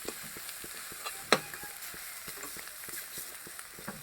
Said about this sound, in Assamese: শাকটো ভাজি হৈ গ'ল।